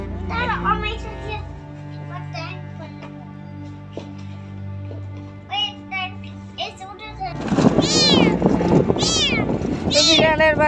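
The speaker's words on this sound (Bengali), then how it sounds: "বিড়ালের বাচ্চারা মিউ মিউ করতেছে," Kittens being carried across a river by boat mew faintly at first over a low motor drone, then cry loudly in rapid, overlapping high-pitched meows near the end.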